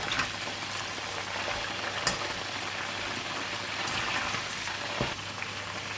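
Pork ribs frying in hot oil, giving a steady, even crackle and sizzle throughout, with a couple of faint clinks standing out briefly above the bubbling.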